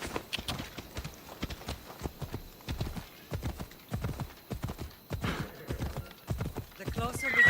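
A horse gallops in Assassin's Creed Odyssey, fast hoofbeats thudding in a close, even rhythm throughout, with a short whinny near the end.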